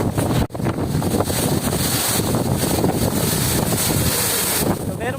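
Water rushes in a constant, heavy roar, loud and close, as a tall waterfall at Hulugan Falls pours down, blended with wind buffeting the microphone.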